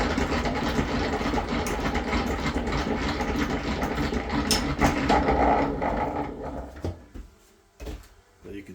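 A honey extractor spins uncapped honeycomb frames with a steady mechanical whir and rumble, close and fairly loud, then winds down and goes quiet near the end, with a few clunks.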